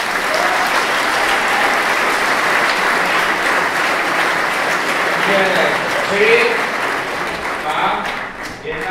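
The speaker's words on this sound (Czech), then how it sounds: "Takže já poprosím zatleskat," An audience at a FuckUp Nights talk in Prague claps steadily in a dense, loud wave for several seconds before it thins out, with a brief spoken word near the start.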